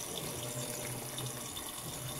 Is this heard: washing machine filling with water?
yes